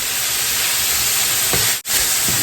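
Beef stew for carne guisada being stirred in a pot, a steady close sizzling hiss throughout with a brief scrape and a momentary break near the end, no voices.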